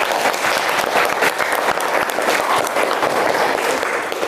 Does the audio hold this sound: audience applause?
yes